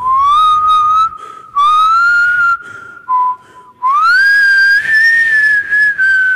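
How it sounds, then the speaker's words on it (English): A person whistles a loud, clear melody in several sustained phrases with brief pauses between them, close to the listener. "Turn that off and I'll show you how I whistle."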